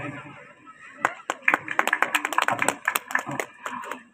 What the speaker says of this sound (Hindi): तालियां बजाने से ऊर्जा बढ़ती है, संकोच न करें